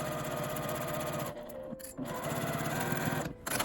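A sewing machine stitches a seam 5 mm from the fabric edge on a tent pouch lining, giving a fast, steady mechanical whir that stops briefly twice before running on, close and alone.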